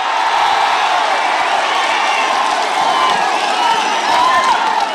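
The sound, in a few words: crowd clapping loudly in protest against police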